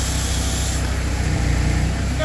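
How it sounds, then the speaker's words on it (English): A pressure washer with its nozzle set to a fan spray, hissing steadily and continuously while washing a house, loud and close with the motor droning beneath. "or we can get a fan spray."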